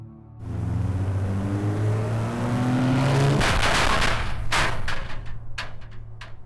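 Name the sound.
armored Land Rover engine growling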